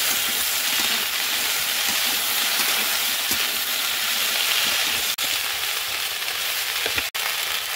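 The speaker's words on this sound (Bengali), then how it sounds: "পেঁয়াজ রসুন ভাজা ভাজা হয়ে গেছে, এবার ঢেঁড়স আর আলুটা এর মধ্যে দিয়ে দেবো।" Okra and potatoes fry in hot oil with browned onion and garlic, a loud continuous sizzle with occasional stirring scrapes and two sharp clicks near the end, no talking.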